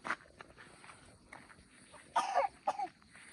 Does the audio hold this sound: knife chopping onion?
no